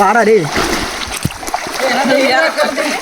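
Splashing water as people jump into a village well to swim, a few sharp splashes and sloshing under excited shouting voices.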